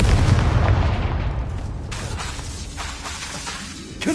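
Confringo spell explosion in Hogwarts Legacy: a loud, heavy boom opens the clip, then fades into a rumbling tail with scattered crackling pops, and a fresh burst sounds at the very end.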